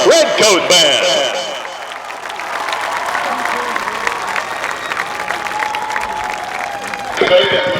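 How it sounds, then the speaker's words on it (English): Applause and scattered cheers from a stadium crowd for the University of Georgia Redcoat Band at a marching exhibition, a broad roar of hands after a loud announcer's voice, lasting several seconds before speech returns. "A round of applause for the University of Georgia Redcoat Band."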